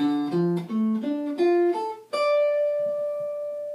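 A clean guitar plays a short arpeggio with chromatic enclosures, single notes stepping up and down, ending on a sustained note that rings out alone.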